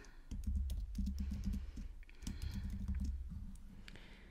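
Quiet, close typing on a computer keyboard, a quick run of soft key clicks with brief pauses as a name is entered.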